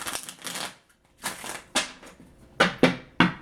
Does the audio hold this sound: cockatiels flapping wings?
no